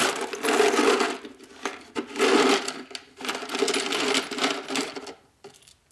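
Metal washers and nuts jingling and clinking as a hand rummages through a small assortment in a home garage, in several rattling bursts close by.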